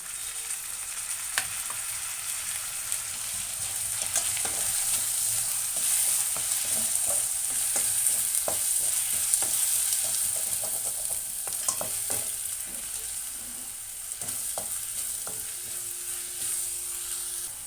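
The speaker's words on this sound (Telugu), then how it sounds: "ఇందులో టమాటా ప్యూరీ ప్లస్ ఉల్లిపాయ ముద్ద వేసుకుందాము ఉల్లిపాయ ముద్ద కూడా పచ్చివాసన పోవాలండి" Tomato puree and onion paste fry in a pan for a mushroom and soya chunk curry, a soft continuous sizzle broken by intermittent scraping and tapping of a stirring spoon, fairly quiet and without speech.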